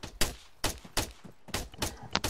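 A rapid volley of sharp gunshots in ARMA 3, around seven cracks in quick, uneven succession, each snapping out loudly from near silence.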